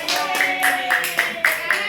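Hands clapping in a rhythmic series of about eight sharp claps, evenly spaced and close to the microphone, during a lesson about Islamic history.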